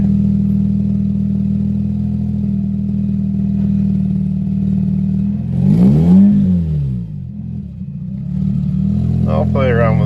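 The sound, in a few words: Mazda RX-8 engine idling and revving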